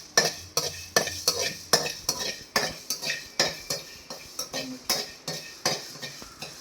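Country chicken curry ingredients fry in a pan while a utensil stirs and scrapes in a steady, repeated rhythm, each stroke a sharp metallic clink over a soft background sizzle, close and fairly loud.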